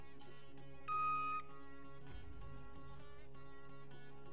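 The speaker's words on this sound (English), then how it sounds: "I'm hitting T to range and it just gives me a beep" A single steady electronic beep from a rangefinder key in a multiplayer war shooter rings out loud and alone for about half a second, over a constant low game hum.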